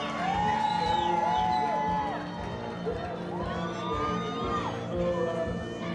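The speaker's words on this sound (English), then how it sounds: "The crowd goes wild" A large crowd cheers and whoops loudly at a soldiers' family reunion, sustained excited shouting with children's voices mixed in throughout.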